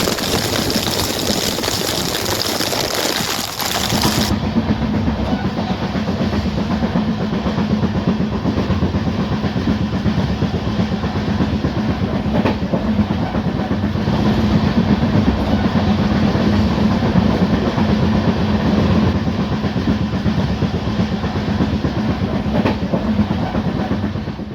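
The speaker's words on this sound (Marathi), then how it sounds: "सध्या तपोवन एक्सप्रेसमधून प्रवास करत आहे" The Tapovan Express runs steadily through heavy monsoon rain, a loud continuous rumble with rhythmic clickety-clack of wheels on rails and a constant hiss, briefly louder and brighter at the start.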